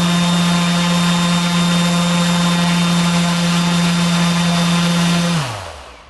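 A multirotor drone motor spins a propeller with balancing tape attached during a dynamic balancing test, giving a loud, steady electric whine with a strong low hum that holds evenly, then winds down as the motor slows near the end.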